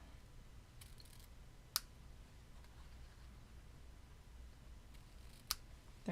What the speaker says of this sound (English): Trim these ends.